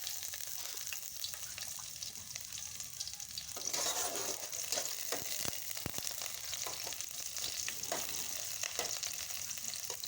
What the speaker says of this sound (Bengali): এখন দিয়ে দেব পেঁয়াজ কুচি। এই পেঁয়াজ কুচিটাকে একটু নেড়ে চেড়ে নেব।